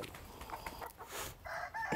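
Naturally raised chickens on a farm: a rooster crows faintly in the distance, with intermittent clucks scattered through the soft outdoor background.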